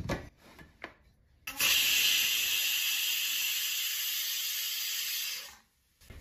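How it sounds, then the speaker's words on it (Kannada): A pressure cooker with a closed lid cooks rice and chana dal payasa with turmeric. A loud, steady hiss of escaping steam starts abruptly, holds for about four seconds, then fades. "ಈಗ ಕುಕ್ಕರ್ ಲಿಡ್ ಅನ್ನ ಕ್ಲೋಸ್ ಮಾಡಿ 3 ವಿಷನ್ಗಳವರೆಗೆ ಇದನ್ನ ಕೂಗಿಸೋಣ."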